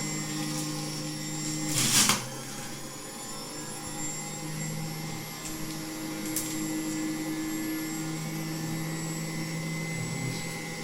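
A Homend 2705 juicer runs steadily on setting two while juicing apples, with a constant motor whine and hum throughout and one brief louder burst near the start.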